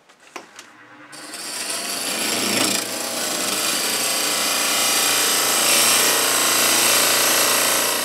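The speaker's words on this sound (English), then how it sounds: "Having this wide parting tool certainly makes making these tenons fast and easy." A wide parting tool cuts tenons in a wooden pepper mill blank spinning on a lathe: a few light taps, then a loud, steady, continuous scraping cut that holds for most of the clip.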